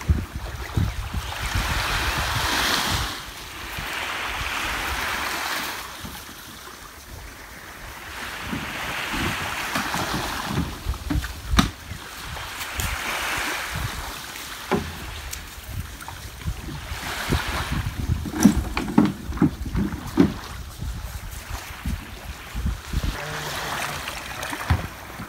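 A small fishing boat rides on the open sea as waves surge and break in slow repeated swells, with gusty wind buffeting throughout and occasional knocks and splashes nearby.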